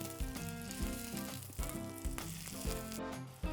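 Tofu grilling in a hot pan gives off a steady, close sizzle with crackling that rises and falls over a layer of background music, and nobody talks.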